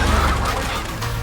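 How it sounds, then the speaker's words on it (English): Chickens squawk and cluck in a loud, dense flurry of fowl calls over heavy noisy clatter, all packed into a brief burst. "Chickens!"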